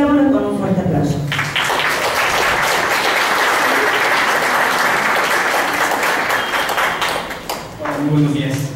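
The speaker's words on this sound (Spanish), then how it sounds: "Recibámoslo con un fuerte aplauso." Audience applause welcoming a speaker at a keynote lecture on psycho-oncology and social work, a steady dense wash of clapping that fills most of the clip, with voices speaking briefly before it begins and again as it fades.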